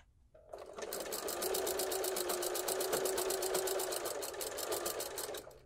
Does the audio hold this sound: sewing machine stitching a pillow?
yes